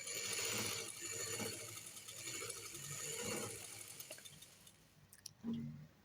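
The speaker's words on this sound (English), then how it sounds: "I'm going to go on my sewing machine. I'm going to sew the longest stitch possible." A sewing machine runs long gathering stitches along skirt fabric, a dense, steady mechanical clatter and whir with a few knocks as it slows and stops near the end.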